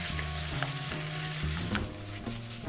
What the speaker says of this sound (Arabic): نديروا الزبده في المقله، نقليو الدجاج